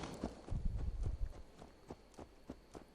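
Horse hooves clopping in the video game Assassin's Creed Valhalla, a steady, close rhythm of hoofbeats that starts heavy and dense, then thins to evenly spaced, fainter clops.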